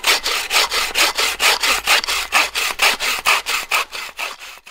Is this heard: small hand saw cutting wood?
yes